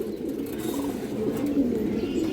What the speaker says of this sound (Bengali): এই দেখেন কৌতারগুলো